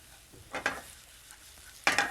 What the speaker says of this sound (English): Onion, I'm going to saute in it.